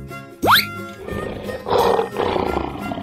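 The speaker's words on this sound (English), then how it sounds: "Lion." A lion roars amid a rough, rumbling animal soundscape, opening with a sharp rising cry followed by gritty, growling bursts that swell and fade over a few seconds.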